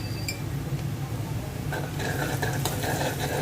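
Cardamom pods and panch phoron spices dropped into hot oil in a pan, a low steady sizzle with small metallic taps and scrapes that grow busier toward the end, no voices.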